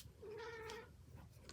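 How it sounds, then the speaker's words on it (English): A pet cat named Toby lets out a single drawn-out meow, quiet and somewhat distant, in an otherwise hushed room. "Sorry, that's my Toby cat"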